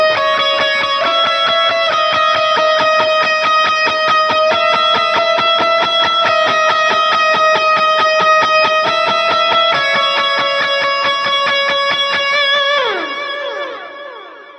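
An electric guitar run through Helix effects plays a chorus melody of bright, sustained, chiming notes, loud and continuous, with a final note bending down as it fades.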